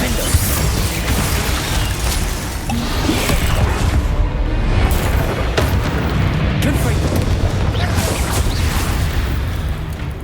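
Confringo fire-blast spell cast in the Hogwarts Legacy video game, booming explosive bursts over dense, continuous combat noise with voices mixed in.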